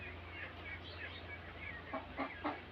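Soft clucking from a few village chickens let out in the morning, over a steady low background hum, with a handful of short, slightly louder clucks toward the end.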